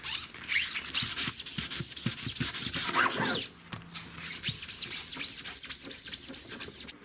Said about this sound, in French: Là je vais commencer à poncer un peu les tubes de fourche